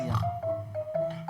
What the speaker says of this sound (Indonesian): Ya kucing di sini bunyinya gitu